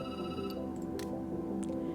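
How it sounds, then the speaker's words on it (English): A phone ringing in the game Night Call: a tonal electronic ring held over a low background hum, with faint ticking clicks scattered through it. "The phone rings and you jump"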